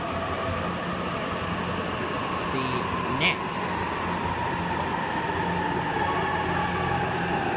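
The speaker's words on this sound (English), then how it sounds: "we have got the Narita Express arriving onto the platform" A Narita Express train pulls into a station platform at Narita, Japan, producing a steady, loud rolling rumble throughout, with a brief spoken voice partway through.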